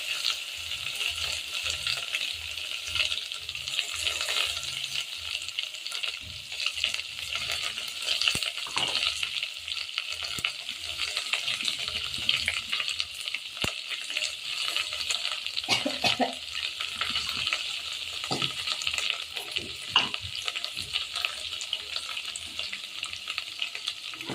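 Ground masala frying in oil in a pan, a continuous close sizzle with repeated scraping strokes of a spoon stirring the paste and a few sharp clinks against the vessel.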